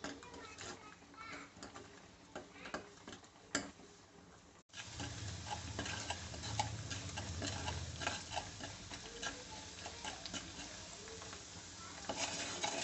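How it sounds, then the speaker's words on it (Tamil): Cashews frying in a pan while making pongal, with a steady crackling sizzle that grows fuller after a brief break, plus occasional stirring ticks and faint background voices. "இது பாருங்கப்பா நல்லா பொரியுது"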